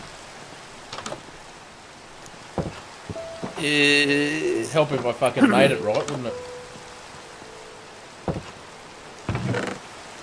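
Steady rain hiss from the Minecraft video game runs under the whole stretch, with someone talking loudly over it partway through.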